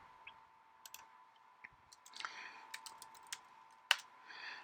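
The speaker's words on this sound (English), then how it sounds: "So I'm just right clicking and creating the folders inside of this." Faint computer mouse clicks while folders are being made, several sparse, light taps scattered unevenly over a quiet background with no voices.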